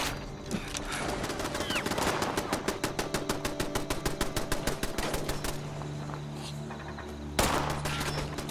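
Rapid gunfire bursts from weapons in Fallout 76, a dense crackling rattle of repeated shots sustained for several seconds with a sharp blast near the end, loud and close.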